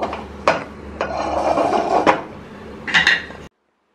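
Cooked dal in a pot being opened, with a few sharp metallic clanks of the lid and vessel spread over a few seconds, then a brief scraping rattle near the end; close and fairly loud, no talking.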